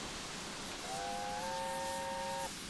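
The steam whistle of the locomotive Oliver Cromwell in Train Simulator 2018 sounds one steady, shrill chime-like blast of roughly a second and a half over a constant background hiss of steam.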